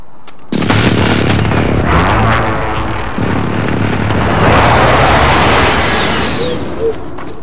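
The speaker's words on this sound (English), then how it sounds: "Enemy precision airstrike," Heavy precision airstrike explosions in a shooter video game hit close and loud, a sudden blast followed by continuous rumbling booms and debris that roll on for several seconds.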